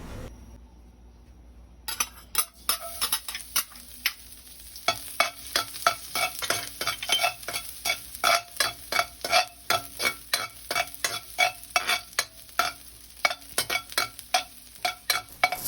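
Garlic sizzling in hot cooking oil in a pan, a steady frying hiss broken by repeated rhythmic scrapes and clinks of a utensil stirring against the pan.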